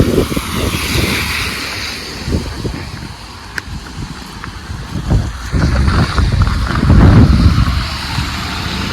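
Rain-fed water rushing steadily at a hillside temple in the rain near Pune, a broad continuous wash with gusty swells and rumbling surges, close and fairly loud with no talking.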